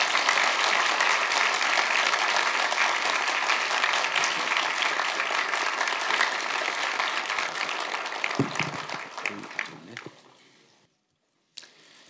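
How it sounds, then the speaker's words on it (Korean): Sustained applause from an audience welcoming a presidential candidate at a political event, dense steady clapping that tapers off into a few scattered claps and near silence at the end. "여러분 큰 박수로 문재인 후보님을 맞아주시기 바랍니다."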